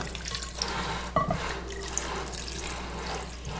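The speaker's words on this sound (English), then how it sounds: "Okay, so to this I'm going to add about 3 cups of water." Water poured over bread in a pot for Haitian bread soup, a steady running splash with a brief louder gush partway through, close by and without talk.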